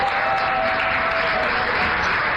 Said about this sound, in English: I think I need a better round of applause.